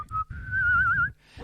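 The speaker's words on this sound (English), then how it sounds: "Can you whistle?" A person whistles a single sustained, wavering note, close and clear, with a brief break near the start and no speech over it.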